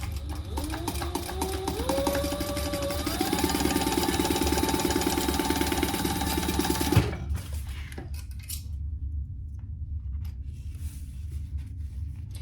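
Sewing machine basting the sides of a small backpack closed, a fast, steady, close mechanical whir that runs for about seven seconds, then stops, leaving a low hum.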